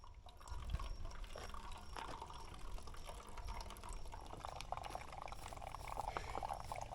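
Water trickles steadily from a Sawyer Squeeze filter into a Smartwater bottle on a backpacking trail, a faint, continuous pour with small drips, close and alone without talk.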